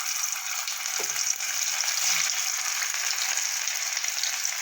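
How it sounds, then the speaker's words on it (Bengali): Small potatoes fry in hot oil, a steady, close, even sizzle with a light stir or clink of a utensil partway through, no voices. "আলুগুলো আমি ভেজে নেব।"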